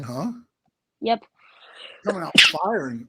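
A man sneezes once, loud and close, during a casual conversation between people talking, with brief talk before and after the sneeze.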